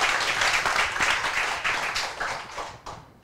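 An audience at a panel discussion breaks into warm applause to welcome a speaker, a dense close round of clapping that gradually fades out.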